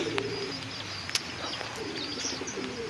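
Racing pigeons coo softly nearby in a loft, with low repeated coos and a few faint chirps and wing flutters on a quiet background.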